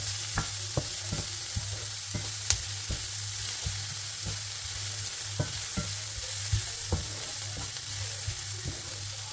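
Garlic frying in a pan for honey garlic pork chops gives a steady soft sizzle with occasional light taps and stirring clicks, close and moderate, with no talking.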